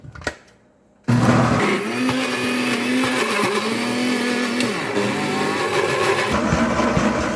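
After a brief thump and pause, a blender grinding ginger starts up with a loud motor whir and rattling grind, its pitch shifting slightly as it churns.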